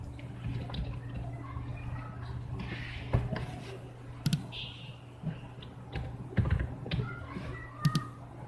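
Soft computer keyboard typing and clicking come in scattered bursts while a blood test report form is filled in, near and quiet over faint background hum.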